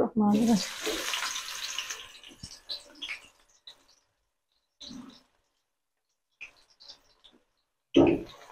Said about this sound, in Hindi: ऑयल अब तकरीबन गर्म हो गया अब मैं इस स्टेज में इसमें प्याज शामिल करूँगी